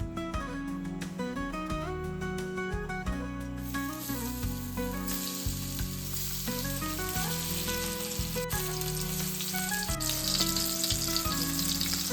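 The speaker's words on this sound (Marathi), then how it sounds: "आता रवा लावून भाजून घ्यायचं ना हो" Goan prawns coated in a mix of wheat and rice semolina fry in a pan. A continuous soft sizzle runs under loud, prominent background music throughout.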